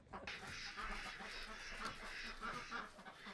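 Homestead ducks quack and chatter in a steady, moderately distant flock murmur, with some goose-like honks mixed in and no speech.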